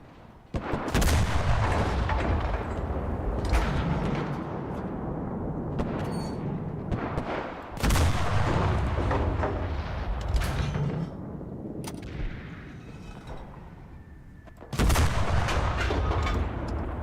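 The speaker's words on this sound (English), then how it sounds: "I do like getting all the kills by firing in the windows, though." Heavy gunfire in the WWII shooter game Enlisted, loud repeated bursts of shots aimed into building windows, dense booming blasts with rumbling echoes and brief lulls between volleys.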